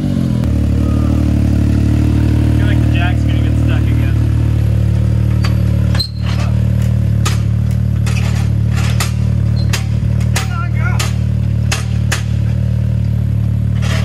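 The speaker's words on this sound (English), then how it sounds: "Give her a little gas." A 4x4 truck, fitted with cheap tires and trying to climb out, has its engine revved steadily and loudly up close, with a constant low rumble and scattered clatter and knocks over it.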